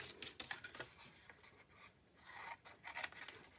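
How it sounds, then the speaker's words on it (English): A blade cuts away a score line on a box, giving a quiet run of short scraping, rasping strokes close up, with no talk. "So I am just going to slightly cut that score line away,"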